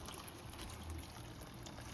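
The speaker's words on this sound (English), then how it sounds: "So I have some hot water here. I'm just gonna put a little for now." Hot water poured into a cooking pot for Guyanese-style stewed snapper, a short continuous splashing trickle with a low gurgle, close and steady throughout.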